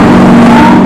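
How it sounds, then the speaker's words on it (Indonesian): Road traffic with motorbikes and cars passing close by, a loud, steady engine roar that fills the whole short moment without a break. "kalau misalkan ada suara kendaraan, motor, mobil segala macam, pokoknya berisik banget"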